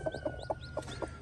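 A hen clucking softly and rhythmically, about six low clucks in quick succession, quiet and close.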